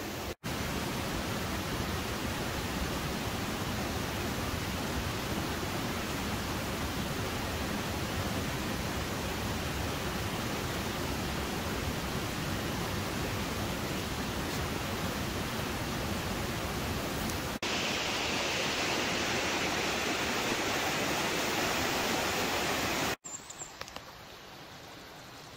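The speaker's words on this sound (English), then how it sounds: "I found this beautiful little stream" Small stream flowing near Mont Olivine, a steady close broadband rush of running water that holds constant before cutting out near the end.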